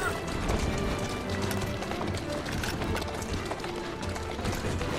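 Horse hooves clip-clopping at a rapid gallop in the Assassin's Creed Syndicate video game, a dense steady rhythm of hoofbeats over cobbled streets with carriage rattle and game noise.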